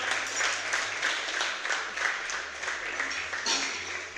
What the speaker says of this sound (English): Let's give a big round of applause for the effort.